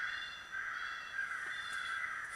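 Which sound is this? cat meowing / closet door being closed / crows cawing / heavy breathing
crows cawing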